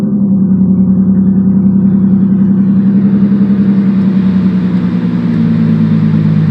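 A car engine with a factory muffler holds a steady mid-pitched idle-to-rev drone while the clutch is pressed, loud and close throughout with only slight variation.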